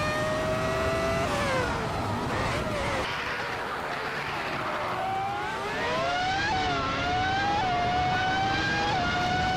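1998 Formula 1 race cars in a racing video game at the Yas Marina South track let out high, whining engine notes that rise and fall as they shift, with several cars overlapping.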